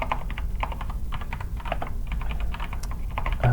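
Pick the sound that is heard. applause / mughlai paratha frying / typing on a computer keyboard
typing on a computer keyboard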